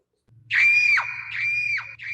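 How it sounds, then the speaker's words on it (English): A loud, high-pitched scream from a wolf in a children's shadow-puppet telling of a woodcutter story, rising in two long sustained wails with a short third burst and a faint low hum beneath. "He heard a loud scream"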